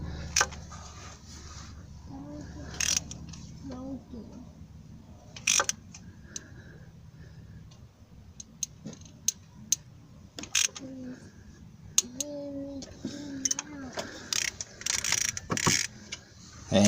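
A wrench tightens aluminum water pump bolts on a Lexus LS400 engine, with scattered ratcheting clicks and metallic clinks in short bursts, close by, under intermittent talking.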